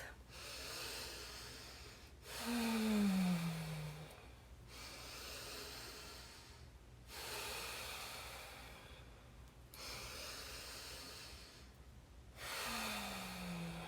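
Slow, deep breaths drawn in and pushed out through the nose repeat in a steady cycle of about five, close and soft, each inhale rising into a rushing hiss with quiet gaps between.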